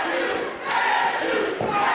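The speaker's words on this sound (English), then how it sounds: "The crowd fully behind Mike Matthews." A wrestling crowd roars in support of wrestler Mike Matthews, a dense, loud swell of shouting and cheering voices that rises and holds throughout.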